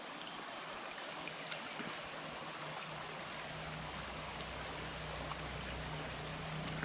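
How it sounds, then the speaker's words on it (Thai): Stream water flowing steadily beside a small hut at a forest restaurant in deep jungle, a faint, even rushing murmur with no talk. "ฟังเสียงน้ำไหล"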